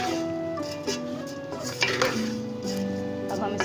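A spoon mixes maleeda churi, a sweet crumbled flatbread mixture, in a metal pot, producing close, ringing metallic scrapes and clinks over a busy background.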